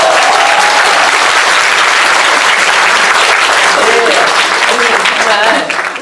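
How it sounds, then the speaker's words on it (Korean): Dense, sustained applause fills a hall at a Democratic Party Busan chapter welcome event for new members, loud and steady throughout, with faint voices underneath before it tapers at the end. "이럴 때 박수가 한번 나와야 되는"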